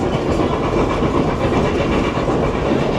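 A historic steam train rumbles steadily along the tracks through the Blue Mountains, a dense continuous roar with faint rhythmic clatter, loud and close with no voices.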